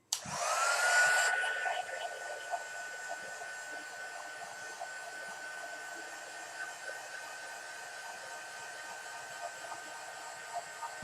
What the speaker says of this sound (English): I'm just going to get my heat gun out quickly and give that a quick blast.